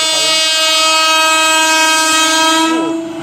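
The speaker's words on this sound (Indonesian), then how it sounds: "KRL tujuan Jakarta Kota 4515 rangkaian 8 kereta." A loud, sustained train horn blares as an eight-car JR 205 electric commuter train rolls close by, fading slightly at the end.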